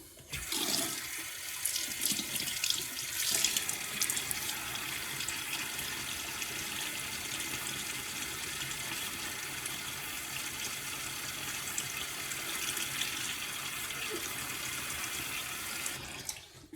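A bathroom tap runs steadily into a sink while a face is wetted before a shave, a constant rushing splash at moderate level with some louder splashing near the start.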